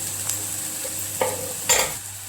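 Onion and tomato sautéing in a pan for Kolhapuri-style brinjal bharit, a low steady sizzle under a constant hum, broken by a few short scraping stirs of a spatula.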